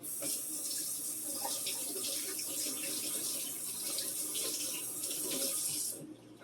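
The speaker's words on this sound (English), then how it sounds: "Give my hands a rinse." A kitchen tap runs steadily as hands are rinsed under it during dinner prep, a continuous close splashing hiss for about six seconds that cuts off at the end.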